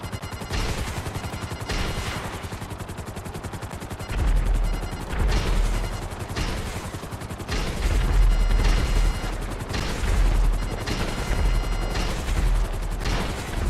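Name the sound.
missiles being launched in the video game GTA 5 Online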